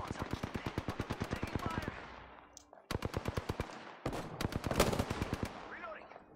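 Loud, rapid bursts of three-round-burst gunfire in Apex Legends, with sharp, evenly spaced shots in several volleys separated by short gaps.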